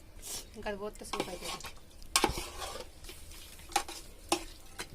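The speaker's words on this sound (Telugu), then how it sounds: "ఒక చిన్న గ్లాస్ వాటర్ యాడ్ చేసుకొని ఈ విధంగా స్లోగా కలుపుకోవాలి" A spoon scrapes and clinks against a pot in uneven strokes while a thick country chicken curry, with a little water added, sizzles and bubbles softly underneath.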